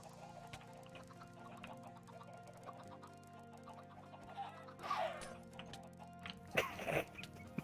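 Chickens cluck in Minecraft amid a dense game soundscape, with short clucks scattered over steady background tones and louder bursts near the end.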